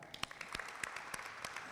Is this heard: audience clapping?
yes